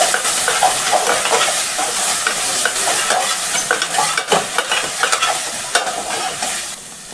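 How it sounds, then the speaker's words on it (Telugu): Ginger paste sizzles loudly in hot frying oil while a spoon stirs it, giving a dense, close hiss broken by scraping strokes against the pan, and no one speaks. "అల్లం పేస్ట్ వేసి బాగా కలుపుకోవాలి."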